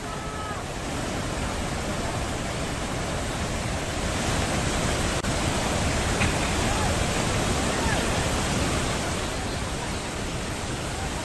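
The Molujaga River in Detusoko, Ende, East Nusa Tenggara overflows after heavy rain, its floodwater producing a loud, unbroken rushing roar.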